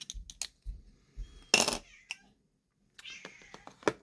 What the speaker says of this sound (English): My cat decided to come in and start playing with things on my desk.